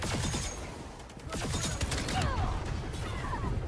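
Rapid bursts of gunfire from the video game Concord crackle in dense volleys amid game sound effects, loud and close, with brief lulls between strings of shots.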